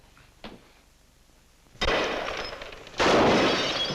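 Two loud gunshots ring out in a 1948 film scene, each a sharp crack followed by a long roaring echo, preceded by a faint click.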